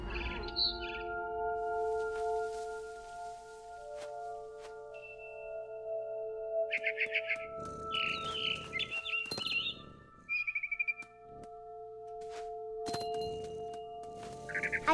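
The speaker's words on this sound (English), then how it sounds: "Then I heard chirping outside my window. It was a barn swallow going back to her nest." A barn swallow chirps in short bursts within the video game What Remains of Edith Finch, bright repeated calls rising over a quiet tonal game backdrop with steady hums.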